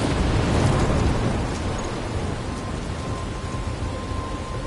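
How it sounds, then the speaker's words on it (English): Thunderstorm in the video game Life is Strange: a loud rumbling roll of thunder over dense, steady rain, swelling early and then settling into a continuous downpour. "I'm trapped in a storm?"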